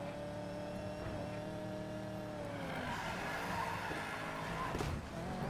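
A 2004 Mustang GTR driven in the racing game Need for Speed Payback gives a sustained engine drone with rising and falling pitch and some tire noise, steady and fairly loud, with no speech.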